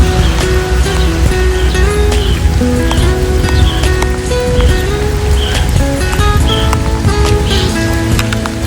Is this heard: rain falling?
yes